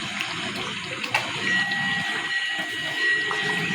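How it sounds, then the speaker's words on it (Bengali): Rose water is poured into a chicken chap marinade in a home kitchen, giving a steady, close trickle of liquid with faint clinks, lasting a few seconds. "সামান্য একটু গোলাপ জল দেব।"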